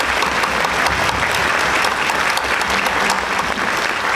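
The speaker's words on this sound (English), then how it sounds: "Another round of applause for educators." Audience at a Clone Wars Q&A panel at a fan convention applauds educators, a dense, steady wash of many hands clapping filling the room at full level throughout, with no talk over it.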